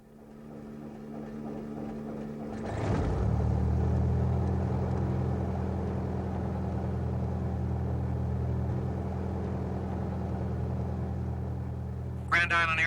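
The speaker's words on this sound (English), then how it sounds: "you're ready to start the engine." A small airplane engine at an airport starts with a sputtering catch, then settles into a loud, steady, low propeller-engine rumble close by.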